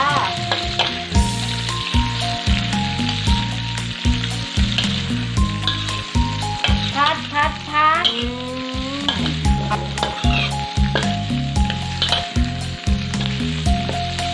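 Garlic, tomato and cucumber stir-fry in a pan, a steady sizzle running throughout under prominent rhythmic background music, with brief scraping stirs.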